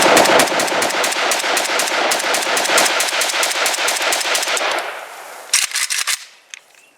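A Cugir WASR-10/63 AK rifle fires a magazine in a long rapid string of loud, close, evenly spaced shots, followed by a brief pause and a final short burst of shots.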